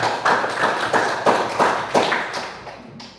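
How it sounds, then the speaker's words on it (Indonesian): Classmates in a school classroom clap in unison, about seven sharp, evenly spaced group claps in a steady rhythm, fairly close, with no talking. "Tepuk tangan buat teman."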